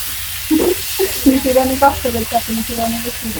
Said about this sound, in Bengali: আমাদের ঘরে এখন আলু ভাজি হইতেছে গোল গোল আলু ভাজি